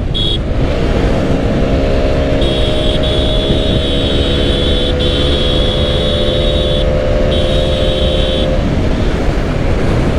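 An Apache RTR 4V FI ABS motorcycle ridden fast on a road, a loud, unbroken roar of wind rush and engine drone with a thin whine that holds steady and then drops away near the end.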